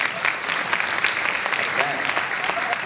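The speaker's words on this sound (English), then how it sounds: "Round of applause if you've been to" A comedy-hour audience at KHNA breaks into steady, dense applause that holds for about three seconds, with a voice faintly audible over the clapping.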